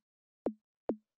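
Short synthesized snare tone made with Ableton's Operator synth, two identical quick plucky hits with a falling low tail, spaced under half a second apart, dry and alone.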